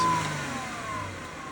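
A Jeep Wrangler JK Rubicon, stuck in a mud pocket, has its engine revved. The sound is a loud, steady, rough droning roar that eases off slightly after the first moment, with no voices.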